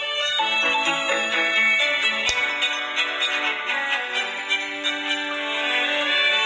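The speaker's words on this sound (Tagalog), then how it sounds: "May tumatawag na po sa telepono." A telephone rings with an incoming call as a steady, melodic ringtone plays continuously and fairly loud, with no voices over it.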